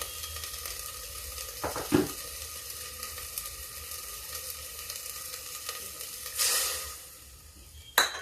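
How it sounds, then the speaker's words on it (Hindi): Ground spices with onion and ginger-garlic paste cook in a pan for a broad bean curry, making a low steady sizzle with a few soft clinks and one louder stir burst, close and quiet, no talking. "अब मसाले मेरे पक रहे हैं"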